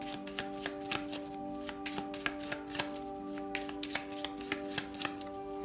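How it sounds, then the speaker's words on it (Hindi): Tarot cards shuffled by hand in quick repeated riffles, a steady series of crisp, close papery flicks over a faint background hum. "मैं थोड़ी सी और कार्ड्स लूंगी, शफल कर लेते हैं पाइल 3 के लिए।"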